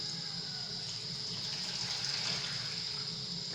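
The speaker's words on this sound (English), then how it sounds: "it needs some more water. So I'm adding some water." Tap water pours steadily into a pot of thick strawberry porridge (uji), a continuous close hiss of running liquid with no voices over it.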